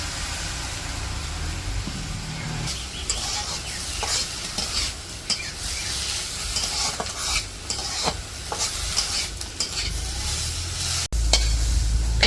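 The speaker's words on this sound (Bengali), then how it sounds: "দইনা পাতা হইতেছে যে কাঁচামরিচ আর রসুন দিয়ে ভাজবো একটু ভাজা ভাজা করে নামিয়ে নিব" Coriander leaves frying with green chilli and garlic in a village kitchen, a steady close sizzle with frequent stirring scrapes and clatter throughout, no talk.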